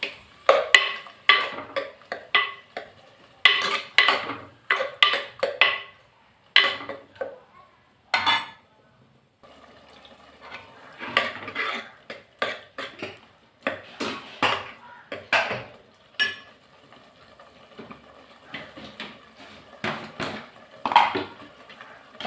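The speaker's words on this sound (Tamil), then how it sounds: "அரைச்சி வச்ச தக்காளி இது நல்லா வதக்கிக்கலாம்." Onions and ground tomato being stirred and sautéed in a pan for a peerkangai kootu lunch, with repeated scraping and clinking of a utensil against the pan in irregular bursts, near and fairly quiet, with no talk.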